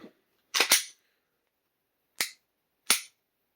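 Three sharp gunshots from a Gen 3 Glock 45 pistol, a quick double report followed by two single shots about a second apart, loud and close with silence between.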